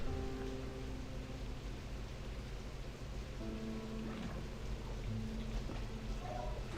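Steady rain falls in the video game Slime Rancher 2, a constant dense hiss of raindrops with a faint rumble underneath, heard alone with no talking.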